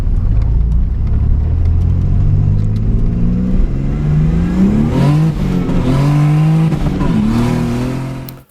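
A Chevrolet Cavalier Z24 accelerating hard on a run, heard from inside as the engine climbs in pitch through several gears, with brief dips at each shift, loud and close before cutting off abruptly.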